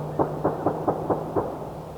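A series of six dull, evenly spaced thumps sounds from far off, like distant gunshots, soft against a low background hum.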